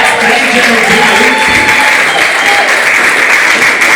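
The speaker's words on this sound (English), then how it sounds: "Give it another big round of applause." Loud, close audience applause at a dinner event, dense continuous clapping from a crowd throughout with some voices mixed underneath.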